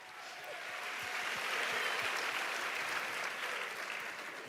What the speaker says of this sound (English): We need an applause here.